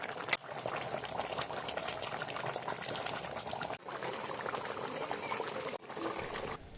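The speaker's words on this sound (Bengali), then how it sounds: "এইভাবে বক করে ফুটবে কিন্তু জালটাকে আরও কমিয়ে দিতে হবে" Pabda fish curry bubbling in a pan, a soft, continuous boiling hiss with two brief breaks and no voices.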